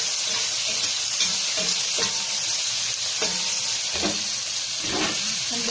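Sliced tomato sizzling and frying in a hot pan while sautéing mussels for ginisang tahong, a steady broadband hiss with occasional stirring scrapes, close and continuous.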